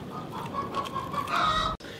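Chicken clucking nearby with short rising calls over a busy background, ending with a brief sharp cut.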